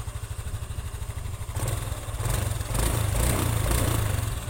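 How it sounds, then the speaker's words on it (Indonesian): A 2021 Honda Scoopy scooter engine runs smoothly after a service, a steady close idle with an even low pulse that swells slightly louder partway through. "Sudah halus suaranya, seperti motor standar pada umumnya."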